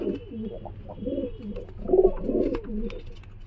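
A male giribaz pigeon of the Kashmir chhapga mukho type gives a few soft, low, throaty coos close by, the loudest burst near the middle, with faint background rustle.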